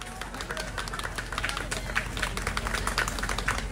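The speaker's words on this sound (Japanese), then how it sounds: "スプラッシュの皆さんに今一度大きな拍手をお送りください" An audience at an outdoor festival stage in the rain applauds the performing group SPL∞ASH, with scattered clapping that swells into a denser, steady round, a voice and crowd murmur running underneath.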